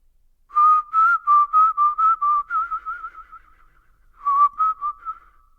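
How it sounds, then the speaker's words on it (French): A man whistles a tune with clear, bright notes in a quick phrase, pauses briefly, then whistles a shorter phrase, close and alone against silence. "on le sait peu, mais je siffle très bien."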